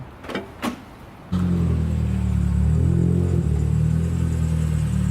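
The engine of a Nissan Silvia S15 Spec-R catches after a couple of faint clicks and settles into a loud, steady, deep rumble that holds close and unbroken to the end.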